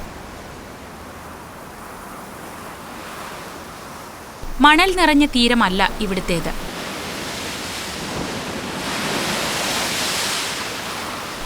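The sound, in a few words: sea waves crashing on rocks at Bandstand, Mumbai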